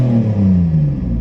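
A McLaren car engine revs loudly and close, a deep steady growl with a slowly falling pitch that fills the whole moment without any talk.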